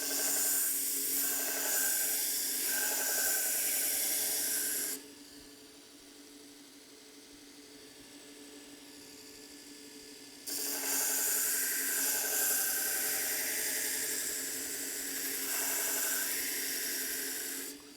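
A knife blade freehand-sharpened on a variable speed belt sharpening machine gives a steady abrasive rasping hiss. It runs for about five seconds, drops to a quiet motor hum, then the grinding returns for several more seconds.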